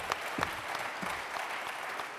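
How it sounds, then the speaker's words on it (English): Audience applause after a warm-up quiz round at a live game show, steady clapping from a room of people lasting the full stretch at moderate volume. "Give them a round of applause."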